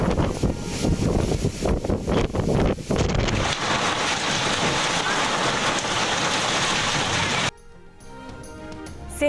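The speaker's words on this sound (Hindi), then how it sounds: "मानसून के 10वें स्पेल में बारिशों का आगाज" Heavy monsoon rain pours in a loud, steady hiss across Sindh, with gusty wind buffeting the microphone early on, before the downpour cuts abruptly to a quieter, lighter patter near the end.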